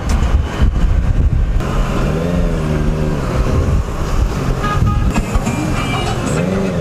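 Stop-and-go road traffic heard from a moving Honda CBR650 motorcycle: a steady engine drone with rising and falling revs under heavy wind rush, plus a short car toot, loud and continuous throughout.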